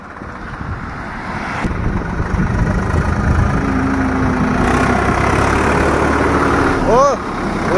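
A Swaraj 744 XT tractor, hitched to a fully loaded trolley on a dirt track, idles with a steady low engine rumble that builds slightly and holds, with wind noise and a short high tone near the end.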